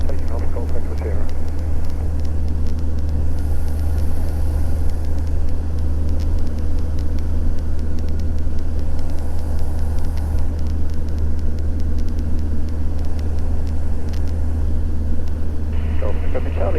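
A Socata TB10 light aircraft runs at steady high power on its takeoff roll, a constant loud engine drone from the cockpit with radio chatter and voices over it.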